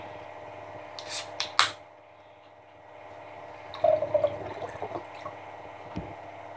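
Mini Maid flavouring is squeezed and added into a glass of water, giving a few sharp clicks and squirts followed by soft trickling and faint liquid sloshing, close and quiet.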